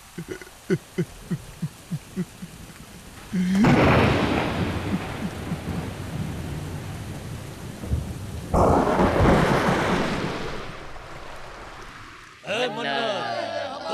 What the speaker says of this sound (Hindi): उसकी दुआ से बारिश हो गई